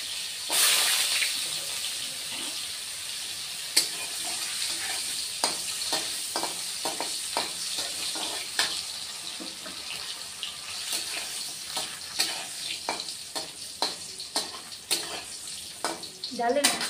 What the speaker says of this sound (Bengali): ডালের বড়ি ভেজে নেব